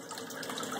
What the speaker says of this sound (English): But I got a waterfall